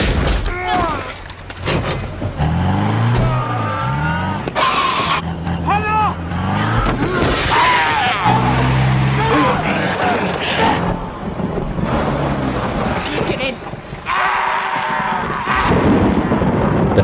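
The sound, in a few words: car crashing through locked gate in zombie film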